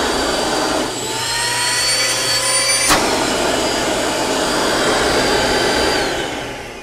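A vacuum cleaner used for carpet cleaning roars steadily at close range, its whine shifting pitch slightly as it runs, with no talking.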